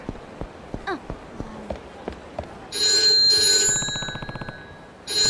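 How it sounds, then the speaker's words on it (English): Payphone ringing in the video game Yakuza 3 Remastered, a loud electronic double ring in two bursts after a few footsteps and small game sounds, then a brief third ring at the end. "The payphone's ringing."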